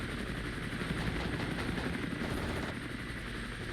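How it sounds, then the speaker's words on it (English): Attack helicopters in the Cold War wargame Armored Brigade II, a steady dense rotor drone with low thumping, continuous and fairly loud with no voices. "But what we need is our fighting helicopters."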